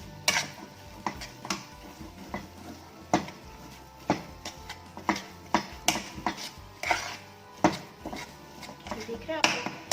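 Potatoes with masala fried and stirred in a pan, a spatula clinking and scraping against the metal in irregular sharp strikes over a low background, close and moderately loud.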